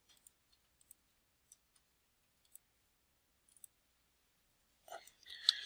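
A computer mouse clicks during CAD dimensioning of a shaft support part: sparse, faint, isolated clicks spread irregularly over several seconds in a quiet room, ending with a brief burst of faint breathy noise.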